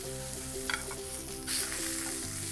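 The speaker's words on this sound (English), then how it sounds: "move it around a little bit so we get a nice even sear on the whole piece of meat" A veal steak sears loudly in a hot pan with a bright, constant sizzle and crackle. A few sharper spits and shifts come through, up close, with no voices and a low tonal hum beneath.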